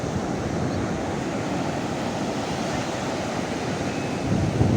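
Sea waves roll and wash continuously along Puri beach in Odisha, a steady broad surf roar with some wind, no voices.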